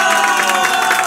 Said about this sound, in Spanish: Venga, dale la aplauso.